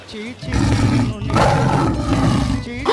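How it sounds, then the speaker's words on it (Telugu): A tiger roar sound effect rolls out as long, loud, growling roars with a rough, throaty texture, repeated in a few surges that fill the clip. "పులి గాండ్రింపు"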